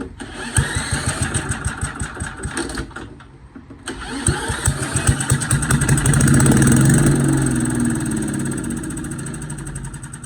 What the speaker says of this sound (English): Perhaps now I can get it to run off the carburetor.